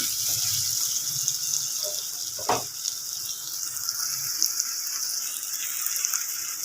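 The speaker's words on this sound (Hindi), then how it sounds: "हम इसमें थोड़ा पानी डालेंगे ताकि ये शलजम जो है वो हमारे गल जाए" Water poured into a pan of finely chopped turnips frying on the stove gives a steady, close hiss and sizzle throughout, with one brief splashy burst partway through.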